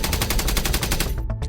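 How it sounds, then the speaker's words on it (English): Rapid automatic gunfire rattles in loud, continuous bursts on a war world. It breaks off near the end into a couple of separate, echoing shots. "You hear gunfire overhead."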